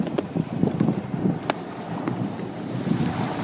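An outboard boat motor on Lake Ontario idles after a gasket repair, a steady low churning rumble up close under continuous wind buffeting and water noise.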